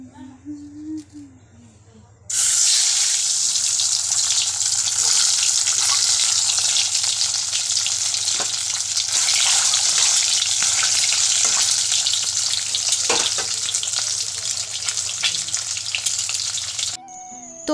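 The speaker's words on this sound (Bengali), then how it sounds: "এই তো বেগুন ভাজা করেছি" Eggplant slices frying in oil in a village kitchen, a loud sustained sizzle starting abruptly after a quiet moment and running steadily with occasional stirring clicks before cutting off.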